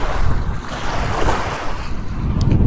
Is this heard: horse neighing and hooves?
no